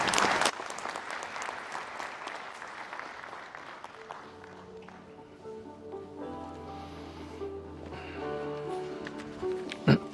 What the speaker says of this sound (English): Can we have a collective applause for Sheikh Dr. Majid Sultan and